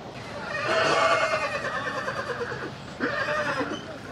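Horse whinnying at the Anthiyur temple horse market in Tamil Nadu, two loud, close neighs with a quavering, shaky pitch, separated by a short pause.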